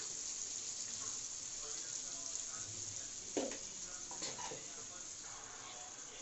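Chilli powder and masala stirred into hot oil for a Coimbatore wedding-style chicken gravy: a faint, steady low sizzle with a few soft scraping stirs of the spoon.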